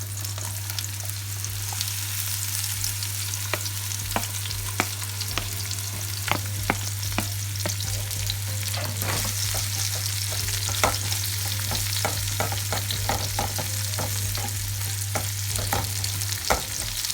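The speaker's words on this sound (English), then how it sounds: "I add my olive oil. Right guys, so you put our onions" Onions frying in olive oil in a pan over medium heat, a loud continuous sizzle and crackle with frequent small pops, close up over a steady low hum.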